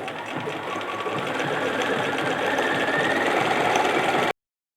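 A sewing machine runs steadily and loudly up close, its rapid needle rhythm humming continuously for about four seconds before cutting off to silence.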